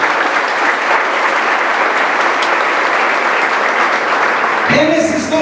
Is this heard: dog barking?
no